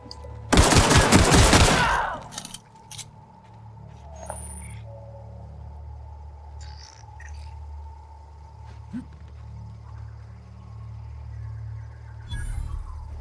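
A burst of rapid gunfire in The Outer Worlds video game, loud and dense for about two seconds, then a quiet low game ambience with faint scattered effects and another brief bang near the end.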